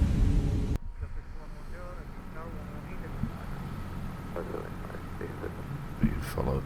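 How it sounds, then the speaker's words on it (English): Cabin of a Jazeera Air Airbus A320neo airliner taxiing to the runway on an evening departure from Muscat, a steady low engine drone and rumble heard from inside, with a voice talking over it. "we're now taxiing down to the runway"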